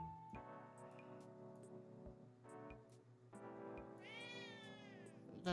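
Shimi, a pet cat, meows several times in drawn-out, rising calls, close by over a faint ticking background, with one longer wavering cry near the end; nobody speaks.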